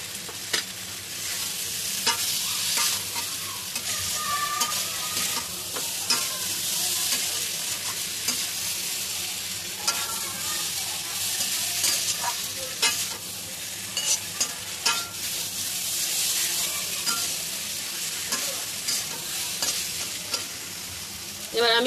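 Fried eggs stirred into eggplant frying in a pan for an egg curry, with a steady sizzle beneath repeated scraping strokes of the spoon; close and moderately loud, no voices.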